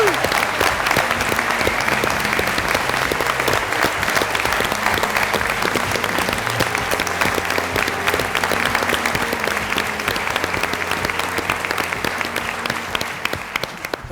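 A big round of applause at a company celebration event on Kauai honors field management staff, many hands clapping steadily and loudly with a low background hum, tapering off toward the end.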